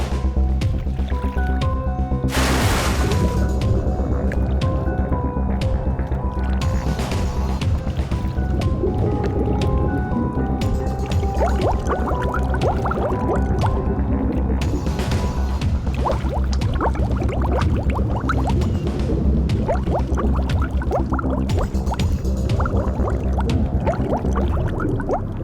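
Divers plunging into a murky pond during a murder investigation, with continuous sloshing and splashing of water, dripping and squishing close by, and a steady watery churn throughout.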